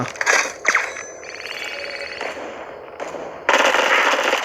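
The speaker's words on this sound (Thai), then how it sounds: "อ๋อโดนยิง" Rapid bursts of automatic gunfire and sharp weapon effects from the mobile shooter game Bullet Echo, loud and close, in several short clusters with brief gaps.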